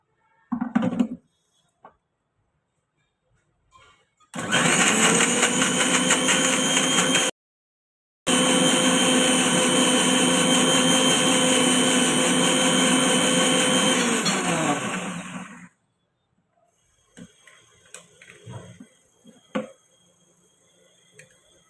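Electric mixer grinder blending coriander seeds, cumin, cinnamon, poppy seeds and water into a paste, a loud steady whirring roar in two long runs with a short pause between, followed by faint clatter.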